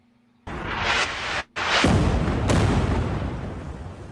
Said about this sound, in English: New video of an Israeli airstrike taking out a building in Beirut